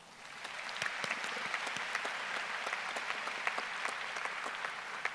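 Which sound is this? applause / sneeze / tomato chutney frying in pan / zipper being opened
applause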